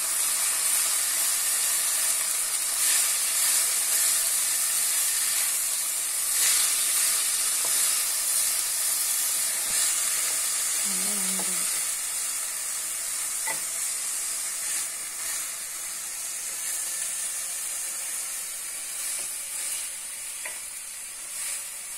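Bitter gourd fries in a pan with a loud, steady sizzle and hiss while it is stirred, producing occasional soft scrapes and a brief clink, heard close with no talking.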